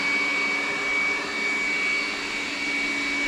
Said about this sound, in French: il est en mode de nettoyage d'aspiration